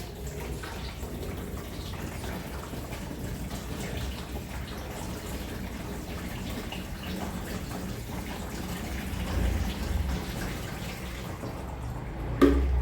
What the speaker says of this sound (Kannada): ಹಂಗೆ ಒಯ್ಬೇಕು ನೀರು